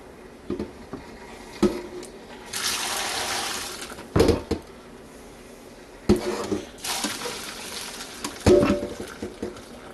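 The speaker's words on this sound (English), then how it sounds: "now that our spaghetti's done, we have a strainer here, ready to strain it out" Hot water from boiled spaghetti is poured from a pot through a strainer for lo mein, in two splashing bursts separated by metallic clanks and knocks of the pot and strainer in a kitchen sink.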